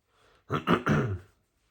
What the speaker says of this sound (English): So you might hear me coughing or maybe clear my throat.